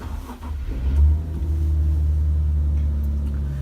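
A 2015 Infiniti Q50 with a 3.7-litre V6 and all-wheel drive fires up, the engine catching with a brief surge about a second in, then settling into a steady, close, low idle hum.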